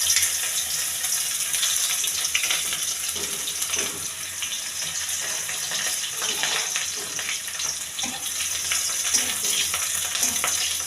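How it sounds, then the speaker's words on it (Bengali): Chopped onions frying gently in a pan for a palak paneer dish, a steady dense sizzle with faint crackles running throughout, close and even, no talking. "হালকা করে ভেজে নেব, একদম কড়া না, হালকা।"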